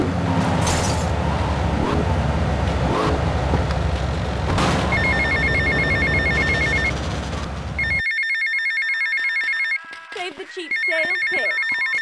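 A payphone beside the mall in the Washington area of GTA Vice City Stories rings in repeated bursts, loud and near. For the first part the ring sits over dense city and traffic noise, then it carries on with little behind it.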